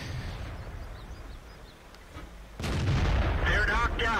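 Tank cannon fire in a video game from a T-62A, a loud booming shot after a quieter stretch of engine rumble, with heavy sustained low rumble and crackle following.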